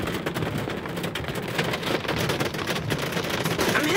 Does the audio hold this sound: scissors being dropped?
no